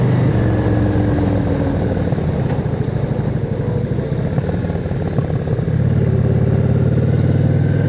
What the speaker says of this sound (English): Lots of motorcycles.